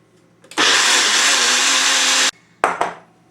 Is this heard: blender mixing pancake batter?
yes